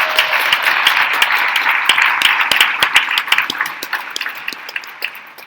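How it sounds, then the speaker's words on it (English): Audience applause at a women's leadership awards event, a dense wash of clapping with sharp individual claps, steady at first and gradually thinning toward the end. "let's give them a hand clap for that"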